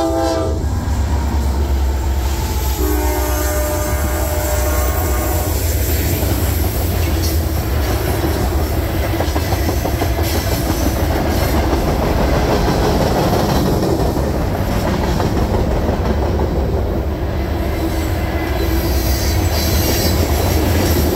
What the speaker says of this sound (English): He's got a WFRX leaser trailing tonight, and a White Face Dash9 leading.